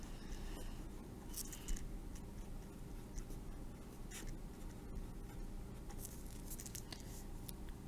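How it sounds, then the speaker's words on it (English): Math is written on a board during a limits lesson: quiet, steady scratching and tapping strokes of the marker or chalk carry on throughout at low level, with no voice over them. "I'm going to write it again."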